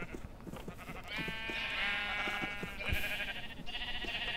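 Sheep in the Minecraft Feed the Beast mod pack bleat again and again, several overlapping nasal calls that fill the whole stretch at steady, moderate loudness with no talking.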